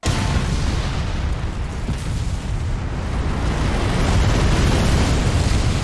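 A cartoon nuclear explosion from the anime Nichijou, a loud, sustained low rumbling roar with dense crackling texture that holds steady for the full stretch, with no voices.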